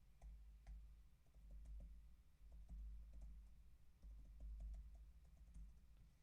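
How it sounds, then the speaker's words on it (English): Quiet typing on a computer keyboard, with scattered soft key clicks in uneven bursts over a steady low hum. "I'll type that into the chat here."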